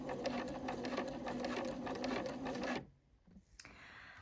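Sewing machine stitching elastic into fabric at a steady, continuous whir for nearly three seconds, close and loud, then stopping abruptly, leaving only faint small handling noises.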